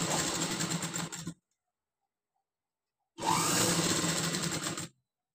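A sewing machine stitches a blouse hem at a quarter-inch margin, running in two steady bursts of about a second and a half each, separated by a silent pause.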